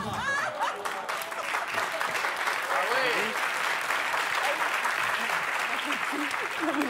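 A studio audience on a French television game show applauds loudly and continuously, dense clapping with scattered chuckles mixed in.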